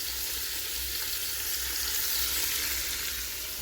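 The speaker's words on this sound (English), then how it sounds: "I'm gonna let these saute on all sides." Meat sautéing in a pan, a close, even, continuous sizzle with no breaks and no voices.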